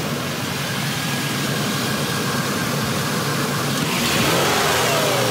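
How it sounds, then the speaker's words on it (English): Car engine in an SUV-shopping setting, revved by repeated throttle blips near the airbox, a loud steady rumbling roar that swells slightly toward the end, no talk. "just flip the throttle"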